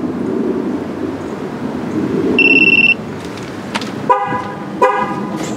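During a TPMS sensor relearn with a Launch CRT5011E tool, a truck's horn gives two short, loud chirps close by, after a brief electronic beep from the tool.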